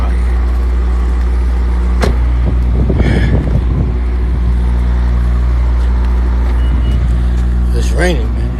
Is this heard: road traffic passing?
yes